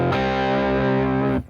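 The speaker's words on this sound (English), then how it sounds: "It's a really puristic tube amp sound" An electric guitar played through a tube amp, with no reverb, rings out as one loud, sustained distorted chord that cuts off sharply near the end.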